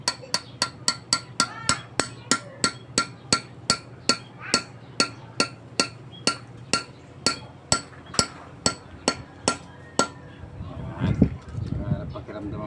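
Light, crisp taps of a small hammer on a flower-type socket during a Mitsubishi 4D56 engine restoration, about two dozen evenly spaced strikes close by, ending with a brief burst of shuffling noise.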